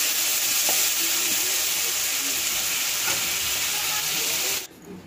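Potatoes frying lightly in hot oil, a loud continuous close sizzle with faint stirring, cutting off abruptly near the end.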